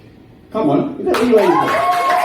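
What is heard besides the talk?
comedy show audience applause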